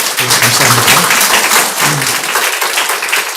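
A church congregation gives a big round of applause, loud dense clapping filling the hall, with a few voices briefly audible beneath it.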